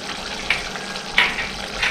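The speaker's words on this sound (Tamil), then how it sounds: "நல்லா கொதிக்க ஆரம்பிச்சிருச்சு." Pepper vatha kulambu, a Tamil tamarind curry, bubbles and sizzles in a pan at a steady close simmer, with small pops breaking through now and then.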